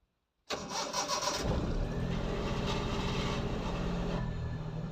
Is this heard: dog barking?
no